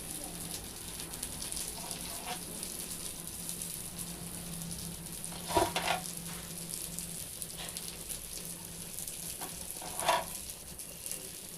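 Fish curry with kizhangan fish simmering in a pot, a soft continuous bubbling and sizzle with occasional louder pops or stirring knocks, steady and close.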